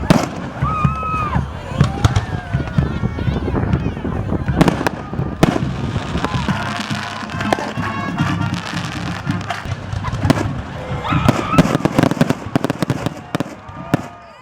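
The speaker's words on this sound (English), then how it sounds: "we burn the A and shoot fireworks the week before the big game" Fireworks crack and pop again and again over a noisy crowd at a small-town homecoming celebration in Alvarado, with people talking and a bright spread of bangs running throughout.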